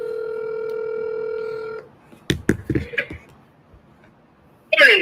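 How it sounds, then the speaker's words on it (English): A telephone gives a steady dial tone, then several separate DTMF keypad tones are dialed as a call is placed, close and clear, and a brief voice comes in at the end. "I'm dialing up your number here and calling you right now."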